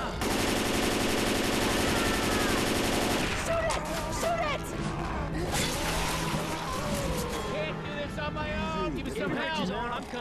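Rapid gunfire in Left 4 Dead 2 on The Parish campaign, aimed at a Tank: a dense, loud automatic burst for about three seconds, then game noise with players talking over it.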